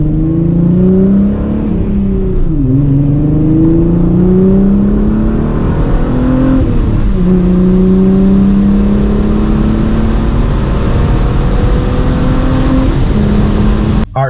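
Engine note rising and falling as a VR5 car drives and shifts gears, heard from inside with a steady road rumble beneath.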